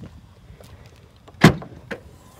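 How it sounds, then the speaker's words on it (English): Trunk lid of a second-generation Chevy Cruze popping open, a single sharp latch-and-lid thunk followed by a smaller knock, close up with quiet surroundings. "when I open this trunk"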